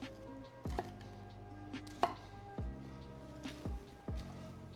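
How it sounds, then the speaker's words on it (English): A knife chops Brussels sprouts into half moons on a cutting board, about six distinct close thuds at an unhurried, uneven pace against a quiet background. "we're gonna cut our Brussels"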